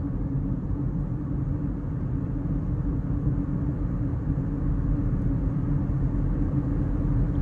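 2008 Toyota Vanguard with a CVT (continuously variable transmission) on the move, heard as a constant low road and engine rumble inside the cabin, smooth and unchanging throughout.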